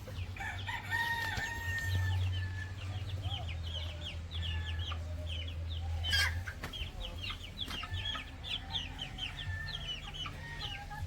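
Chickens on a farm cluck and chatter in overlapping bursts, with a rooster crowing now and then, over a constant low hum in the background.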